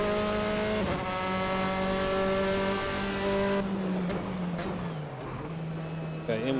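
A race car in a racing simulator driven with hand controls drones at a steady high engine pitch that shifts down as it brakes for a corner, with faint tyre noise and no talking.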